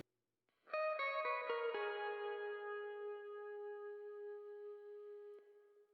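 Clean electric guitar notes ring out in a quick run, then sustain into a long, spacious tail of reverb and echoing delay.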